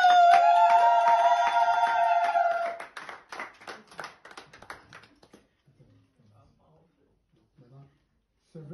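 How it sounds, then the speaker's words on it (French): Scattered hand clapping at an engagement ceremony, opening under a sustained high tonal vocal cry, then thinning into a few loose claps that fade to near silence within about five seconds. "Applaudissez."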